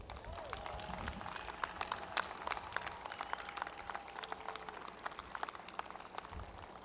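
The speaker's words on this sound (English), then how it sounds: "I want everyone in this venue to give this group a round of applause." Audience at a high school graduation applauding, a faint, steady wash of clapping from a crowd in a large venue.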